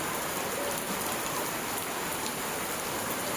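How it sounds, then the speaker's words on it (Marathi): Steady May rain falls continuously in the Konkan, a dense even patter on surfaces, close and fairly loud with no pauses. "आणि पाऊस बघा आत्ताच नुकतीच सुरुवात झाली."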